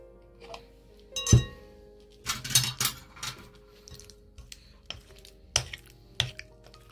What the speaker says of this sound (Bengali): দুটো উপকরণ প্রথমে মিশিয়ে নিচ্ছি।